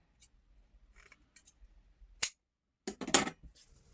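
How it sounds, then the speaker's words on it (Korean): Several crisp scissor snips, with a couple of louder cuts through a stiff zipper on a dress being remade, alongside faint light clicks in a quiet room. "지퍼도 잘라주세요."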